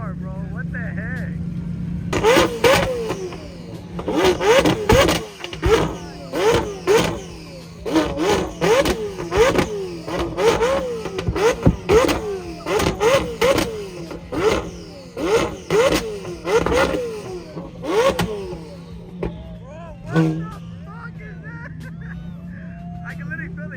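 A McLaren 720 GTR revs hard in a rapid series of sharp bursts that pop and crackle as the exhaust shoots flames, loud and close, with excited voices talking over it.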